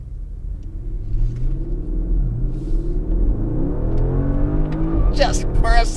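A 2018 Porsche Panamera Sport Turismo accelerates hard, its engine note climbing steadily in pitch as a deep, continuous rumble fills the cabin, with brief voices near the end.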